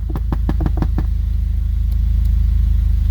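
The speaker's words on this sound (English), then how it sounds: "we're idling at about 800 RPM." The engine of a 240 car idles at about 800 RPM, a close, low and steady rumble with a few sharp knocks near the start, and no talking.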